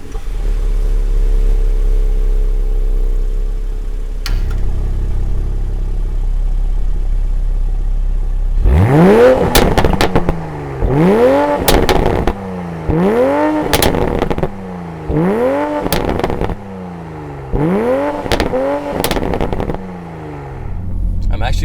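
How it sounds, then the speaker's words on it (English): A 2020 Toyota Supra with its stock exhaust: after a quiet idle-like hum, the engine fires up and revs repeatedly, each loud rev rising and falling in pitch, with crackles and pops between throttle blips, close up. "pretty surprised how the stock exhaust sounds. It sounds pretty good. It has all the crackles and bangs you'd want."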